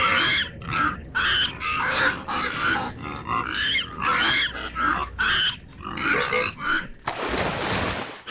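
Pigs from the video game I Am Jesus Christ grunt and oink in a dense, repeated series of loud, close snorts, followed by a short burst of noisy rustle at the end.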